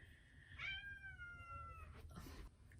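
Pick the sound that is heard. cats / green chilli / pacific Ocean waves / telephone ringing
cats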